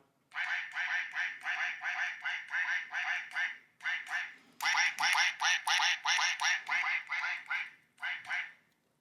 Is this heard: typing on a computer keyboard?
no